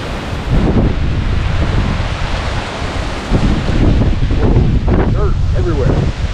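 Strong wind of about 50 mph roars in sudden gusts across Tornado Alley, battering the microphone with loud, steady rushing noise.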